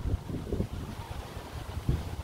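Gusty storm wind during Typhoon Agaton buffets the microphone outdoors as a low, rumbling roar that swells in a few heavier blasts over the short stretch.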